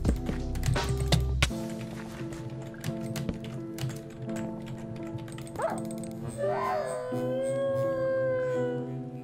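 Minecraft wolf in a Skywars match, a rising howl and whining yelps cutting through busy game clicks and key taps, followed by a long wavering whine.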